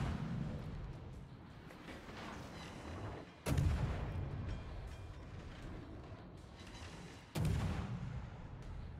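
Heavy naval guns of the warship Seattle boom in a video game, two sharp loud blasts a few seconds apart over a rumbling, noisy battle background.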